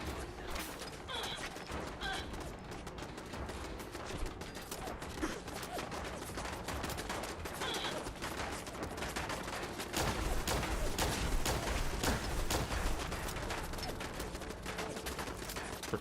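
Dense rapid gunfire and mechanical clatter from a firefight in Fallout 4, sustained and loud across the whole stretch, with bursts intensifying toward the middle and no talking over it.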